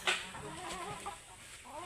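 Chickens on a backyard poultry farm cluck and murmur in a steady, close run of short calls, with a sharper squawk near the start.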